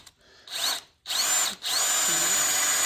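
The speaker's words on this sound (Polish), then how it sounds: "Ma ostrzone wiertło, zobaczymy czy umiesz ostrzyć." A drill with a sharpened bit bores through thick metal, about 8 mm, while preparing a John Deere S690 combine for harvest, whining loud and close in two bursts after a brief start, the second continuous to the end.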